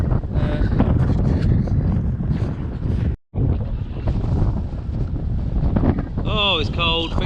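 Strong outdoor wind buffets the microphone throughout, a loud constant rumble that drops out briefly midway, with some voice and faint bird calls mixed in near the end.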